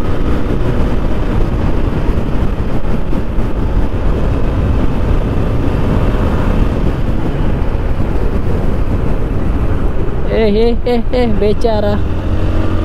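A freshly serviced motorcycle rides along with a steady engine drone buried in heavy wind buffeting, while a rider talks over it and a brief horn-like tone sounds near the end.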